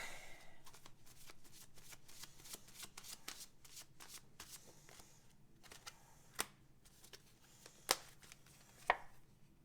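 Slippery oracle cards being shuffled by hand at a tarot reading: a run of quick, crisp riffling and slapping bursts, close and fairly quiet, with a few sharper card snaps near the end and no talk.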